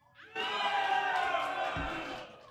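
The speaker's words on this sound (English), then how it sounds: "let me hear it from the grand finals crowd" A grand finals esports crowd cheers and roars in a large venue, a loud, sustained wall of shouting that swells and holds for a couple of seconds.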